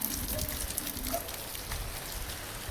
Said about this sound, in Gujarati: જોઈ લો કેવો વરસાદ આવ્યો.